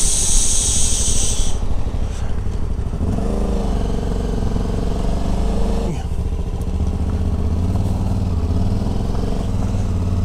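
Touring motorcycles on a UK, Spain and France road trip roll in and park, with a loud, close engine rumble that idles and shifts in pitch, brief wind noise at the start and a steady low drone throughout.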